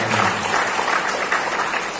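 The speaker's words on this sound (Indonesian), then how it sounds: "tepuk tangan untuk Mbak Reva" An audience at a school anti-drug pledge event applauds for a performer, a continuous, even wash of many hands clapping at moderate loudness with no clear talk.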